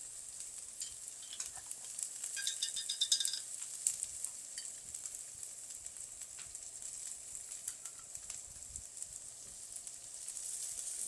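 Spicy bean paste sizzles in a frying pan where beltfish is being pan fried and braised, giving a steady, close crackling hiss with light stirring scrapes throughout and no voices.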